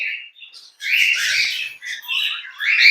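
Pet birds in a cage at a Turkish breeding room chirp and tweet loudly and close by in quick bursts with brief pauses, a sharp call at the end.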